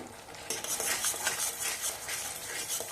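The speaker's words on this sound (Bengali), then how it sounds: "এবার মশলাটা কষে নিয়ে এর মধ্যে দেব কাশ্মীরি লাল লঙ্কার গুঁড়ো" Spice paste fries in a pan for a Bengali potol rezala while a utensil stirs it, giving a close, busy sizzle with repeated scraping strokes and light metallic clinks, no voices.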